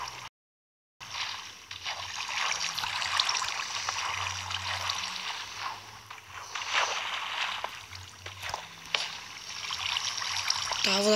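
Running water in Minecraft Pocket Edition, a steady rushing flow that continues for several seconds after a brief silent gap at the start.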